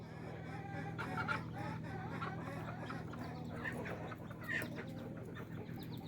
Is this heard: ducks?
yes